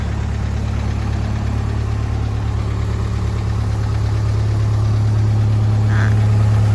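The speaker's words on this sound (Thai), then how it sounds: "จะเป็นเครื่องยนต์ดีเซลนะคะ" The diesel engine of a JLG 450AJ boom lift idles steadily nearby, a loud, even low drone with a faint knocking texture and no talking.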